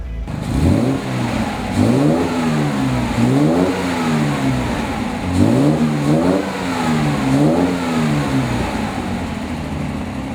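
A 1967 Austin Healey 3000 engine starts and revs repeatedly, pitch climbing and falling in several loud surges, close up with no talking.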